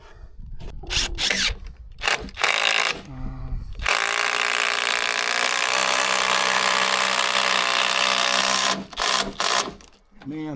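A power drill drives new screws into deck boards, a steady loud whirring run of several seconds after shorter bursts of drilling, with brief talk before and after.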